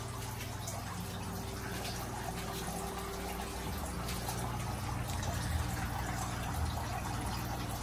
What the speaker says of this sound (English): A little bit of water drips from the top all the way down to the bottom